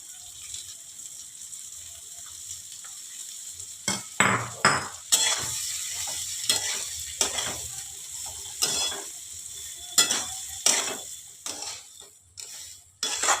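Soaked and dried mung dal is lightly fried in a pan over a faint steady sizzle, with repeated scraping stirs in an irregular rhythm from a few seconds in and no talking.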